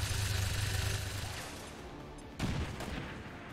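Suppressive gunfire in XCOM 2, a dense, continuous burst of loud shots and crackling fire that swells briefly near the end, with no talking.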